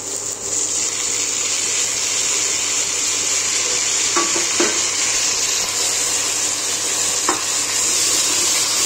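Chopped tomatoes and capsicum fry and get stirred in a pan for pav bhaji, giving a steady close sizzle throughout with a few soft scrapes of the spoon midway.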